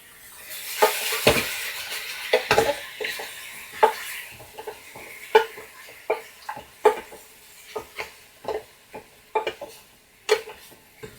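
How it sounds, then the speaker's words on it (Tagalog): Fish is sautéed in a pan for a sinigang, with a utensil stirring and scraping against the metal. Irregular clanks and scrapes sound up close over a soft, steady sizzle. "gigisa natin yung isda para mawala yung lansa niya"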